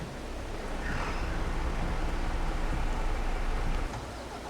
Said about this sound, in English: Okay, it's raining, so he's coming back.